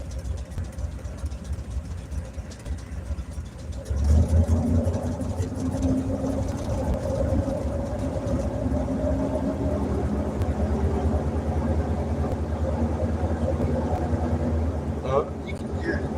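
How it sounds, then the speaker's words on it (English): A car engine idles with a fouling spark plug, a steady low rumble with an uneven, slightly missing beat that grows fuller and louder partway through and continues to the end. "I'm going to have to tear apart this side of the engine and check out which plug's fouling"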